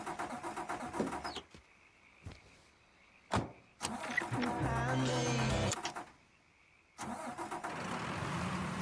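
A car engine in the Mafia 3 video game cranks and starts, then runs at a steady loud idle for a couple of seconds before cutting out, with door and handling clunks around it and no talk.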